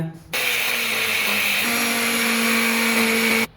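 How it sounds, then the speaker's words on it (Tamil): A kitchen mixer grinder roars to life, grinding soaked horse gram with salt steadily and loudly for about three seconds before switching off. "இப்போ இது மிக்சியில் அரைக்கலாம் வாங்க"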